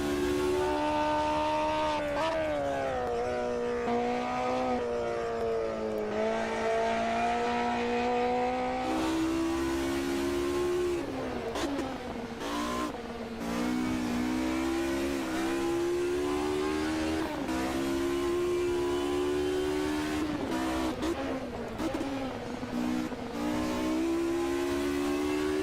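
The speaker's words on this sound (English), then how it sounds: "Geez, a rev." A race car engine in Automobilista 2 revs and climbs through the gears, rising pitch sweeps broken by brief shift dips. The engine note holds loud and continuous for the whole stretch.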